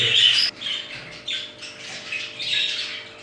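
Budgerigars being given medicated water squawk in loud, close bursts, several harsh calls in quick succession with brief gaps between them.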